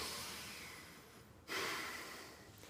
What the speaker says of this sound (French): Ce qui est très différent de respirer simplement par le nez.